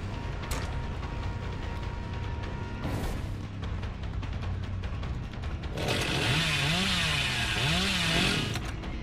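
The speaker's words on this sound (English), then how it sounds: "I'm just gonna chainsaw it down anyway, bro." A chainsaw revs in the video game Dead by Daylight, a gritty motor drone throughout that swells into a loud, rising and falling buzz in the final few seconds.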